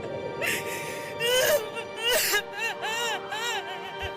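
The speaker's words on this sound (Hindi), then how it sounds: "मुझे उसके घर के अंदर से अजीब औरत के रोने की आवाजें आने लगी थी।" A strange woman's wailing cry in a Hindi horror animated story, rising and falling moans with gasping breaths in short wavering bursts over a faint background hum.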